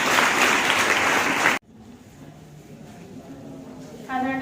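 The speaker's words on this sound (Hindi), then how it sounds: "इनको लिए जोरदार तालियों स्वागत है।" Applause at a school event: a loud, dense burst of clapping that cuts off abruptly partway through, followed by a quieter stretch of room sound and a voice starting to speak near the end.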